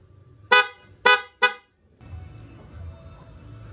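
Stock horn on a Honda Click scooter sounding three short, loud honks in quick succession, close by, followed by a low background rumble.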